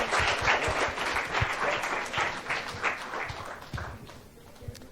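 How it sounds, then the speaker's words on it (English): Round of applause at a Tata Projects Ltd. corporate event, a crowd clapping steadily for several seconds before thinning out toward the end. "Can we have a huge round of applause"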